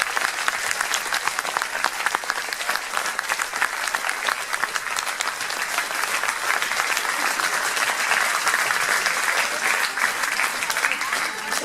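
Steady, full applause from a crowd at a judo dojo gala for a first-year young competitor, a continuous wash of many hands clapping at an even level throughout, with little else audible.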